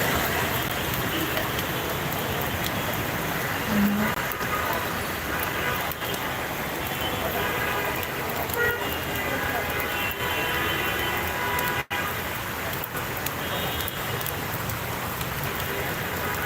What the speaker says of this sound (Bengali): প্রচুর বৃষ্টি হচ্ছে ঢাকা শহরে